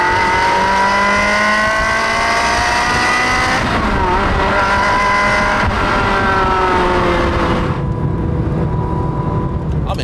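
Ferrari 360 engine drones steadily and loud throughout a drive, its harmonic tones rising and falling as the car accelerates and shifts, with road and wind noise underneath.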